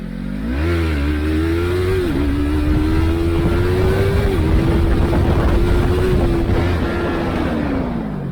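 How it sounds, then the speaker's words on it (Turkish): A motorcycle engine blips its throttle, backs off for a gear shift, then pulls steadily up in pitch, loud and close throughout with no talk. "Gazı anlık veriyoruz, kapatıyoruz, vitesi atıyoruz, tekrar gaz açıyoruz."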